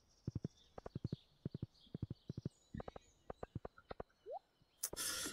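Horse hooves in Stardew Valley Expanded clip-clop in a quick, regular rhythm of crisp paired knocks, closing with a short chime and a brief noisy burst.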